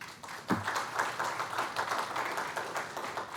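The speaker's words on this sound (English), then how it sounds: "you ought to give yourselves a round of applause" Employees at a city service awards ceremony clap together in a steady, moderately loud wash of applause, with one sharper thump near the start and no voices.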